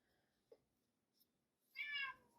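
A house cat named Panda, beside someone knitting at a table, lets out a single distinct meow after near-silence and a couple of faint taps, with no speech.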